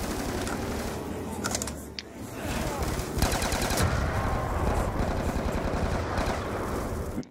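Rapid automatic gunfire in the Black Ops 2 video game, dense continuous bursts of shots with people talking over them.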